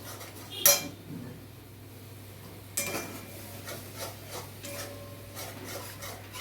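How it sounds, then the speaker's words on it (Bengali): A spatula scrapes and rubs in a pan as ground spices are sautéed with cashew paste for an ash gourd dalna, with a sharp metallic clink near the start and quiet, irregular scraping strokes afterward. "কাজুটা দিয়ে ভালো মতো কষাতে হবে।"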